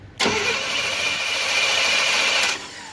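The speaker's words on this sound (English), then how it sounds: "You can then, you know, spin your engine over" Car engine cranked over with a mechanic's remote starter button, steady whirring crank that starts abruptly, runs about two seconds at a constant loud level, then stops, no voices.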